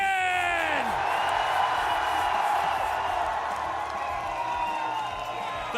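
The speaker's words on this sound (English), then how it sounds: "The crowd is hyped, as you can tell." An esports arena crowd at a live final cheers and whoops, a loud dense roar with whistles sustained for several seconds before easing slightly at the end.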